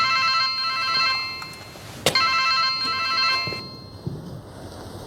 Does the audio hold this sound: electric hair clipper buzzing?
no